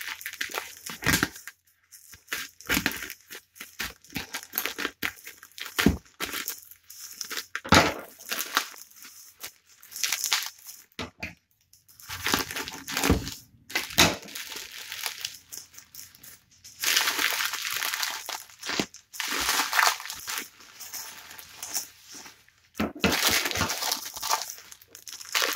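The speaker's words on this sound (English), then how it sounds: "I just want to go ahead and get straight into ripping this package apart." A cardboard shipping package being ripped open up close, with loud crinkling, tearing and crushing that comes in irregular bursts and dense stretches, broken by brief pauses, with no voices.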